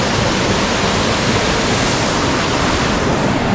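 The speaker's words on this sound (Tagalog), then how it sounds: "nakaka-refresh yung tunog pa lang ng agos ng tubig" Flowing water at Batlag Falls makes a dense, constant roar of cascading water, loud and close, with no voices.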